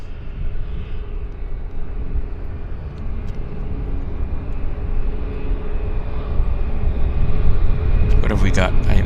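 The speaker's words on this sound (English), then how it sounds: "Here comes the United Airlines trundling along as it makes its way to the departure runway" A United Airlines airliner taxis toward the departure runway at an airport, its engines a steady broad roar that swells slightly toward the end, with some talk mixed in.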